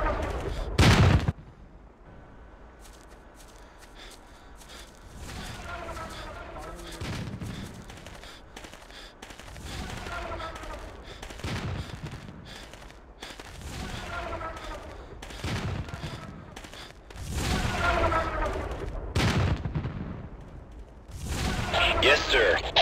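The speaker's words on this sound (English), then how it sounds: "Heavy fire on our position." Heavy gunfire in a modded Ghost Recon World War 3 battle, with German Bundeswehr troops in Ukraine: repeated loud rifle and machine-gun bursts and booms, some near and some distant, with voices talking between volleys.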